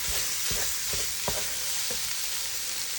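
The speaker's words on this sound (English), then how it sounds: "I'm just going to brown this, and I'm going to add a little bit of onion." Meat browning in a pot for tortellini soup, a steady broad sizzle with several soft scraping stirs, close and moderate in level.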